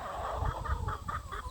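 Chickens on a farm cluck in a series of short, rhythmic bursts, fairly close and steady over a low background rumble.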